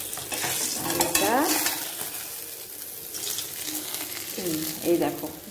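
Bata fish fry in a pan, with a steady sizzling crackle and brief stirring or scraping noises in a home kitchen. A faint voice surfaces now and then.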